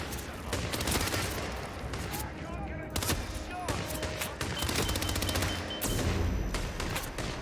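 Rapid video game gunfire in a Northernlion stream, dense bursts of automatic shots rattling continuously and loudly, with a voice talking over parts of the fighting.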